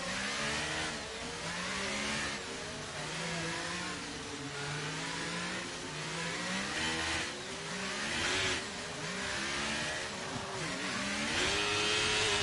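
An F1 car at full throttle in an F1 sim racing game at the Bahrain Grand Prix, its engine screaming up through the gears in rising sweeps with brief dips at each shift, loud and continuous with no voices.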